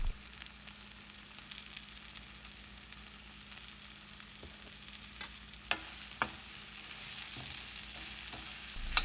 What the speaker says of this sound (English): Again just cook it for another 2 minutes.